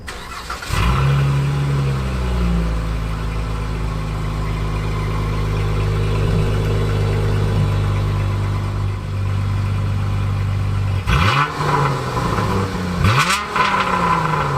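A 2016 Dodge Challenger SXT Plus engine hums steadily at cruising speed from inside the car, then rises in pitch a few times as it accelerates through gear changes, close and continuous with no talking.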